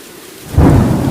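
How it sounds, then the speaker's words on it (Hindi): Heavy downpour with a rumble of thunder swells in suddenly, loud and close, a dense roar of rain filling the short stretch with no voices. "देखते ही देखते मूसलाधार बारिश शुरू हो गई।"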